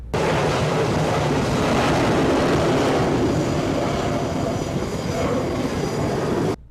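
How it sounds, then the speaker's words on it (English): A jet launches from an aircraft carrier flight deck, a loud, sustained broadband engine roar that holds steady for several seconds before cutting off abruptly, with no talking. "here's what a jet looks like flying off the flight deck"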